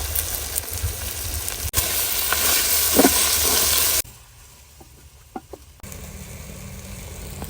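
Onion, tomatoes, green chili, ginger and garlic sizzle loudly in a pan for palak pich, a steady hiss that drops suddenly as the ingredients go in, with faint stirring.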